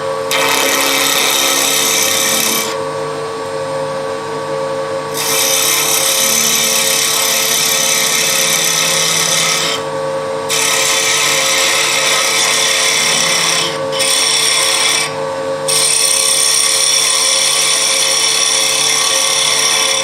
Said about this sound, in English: So I'm going to get a parting tool to open up a little bit more of that wood.